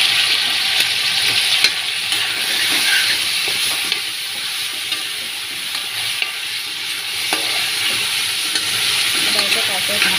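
Carrots, green peas and onions fry steadily in a pan, a continuous close sizzle with occasional stirring scrapes and clicks, no talking.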